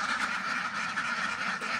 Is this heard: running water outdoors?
no